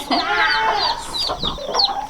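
Chickens cluck steadily in a barn, several birds overlapping in close, busy chatter with sharp higher squawks breaking through.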